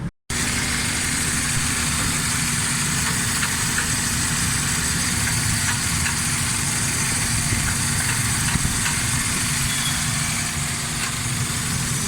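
A Suzuki Alto 1000cc car engine idling after repair work with new spark plugs fitted, holding a steady, even hum close up for about twelve seconds with no talking.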